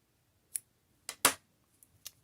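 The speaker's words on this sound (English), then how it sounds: "And then I will cut my yarn." Scissors snip through crochet yarn for a dishcloth in a few crisp, close cuts: a light click, then two sharper snips in quick succession, followed by small faint clicks against near silence.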